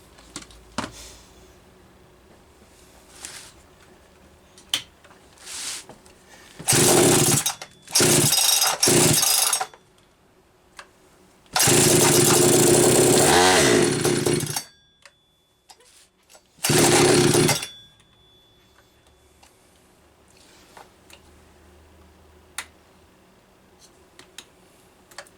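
An 82cc two-stroke chainsaw engine is started and revved in loud, harsh bursts that are close by, with several short blasts and one longer run. Quiet gaps fall between the bursts.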